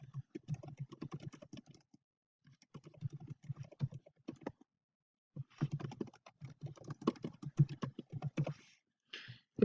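Fast bursts of typing on a computer keyboard, close and fairly quiet, with clustered key clicks separated by short pauses and no speech.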